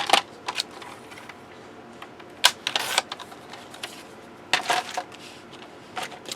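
A paper trimmer slices through craft card in a few short, sharp scraping bursts, separated by brief quiet gaps, close and moderately loud with no talking.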